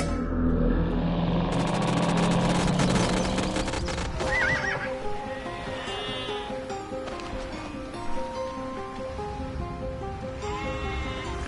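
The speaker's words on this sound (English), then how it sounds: "That is indeed a pretty horse that you brought me, Babur." A horse in Age of Empires II gives a loud, shrill whinny, followed by clip-clopping hooves and bleating sheep or goats amid busy game sound effects.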